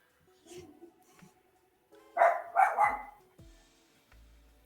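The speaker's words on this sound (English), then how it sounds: "The dog wants you to feed him." A dog barks nearby in a quick cluster of three or so loud barks, with quieter indoor sounds around it and a live stream in progress.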